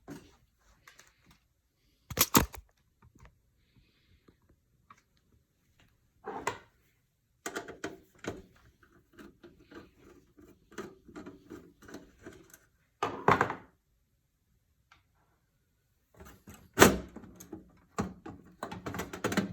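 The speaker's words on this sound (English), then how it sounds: "I'm going to first remove this screw and try to pull the disk assembly out" Disk drive assembly being pulled out of a Dell Inspiron desktop: scattered knocks, scrapes and plastic-metal thunks, a few louder bumps near the start and middle, with quiet gaps between and no talk.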